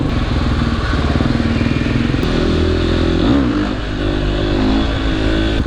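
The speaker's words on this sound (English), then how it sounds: "Some moped kids behind me." A small two-stroke moped engine buzzes close behind a KTM supermoto, its pitch rising and dipping as it revs, with some rattling clatter.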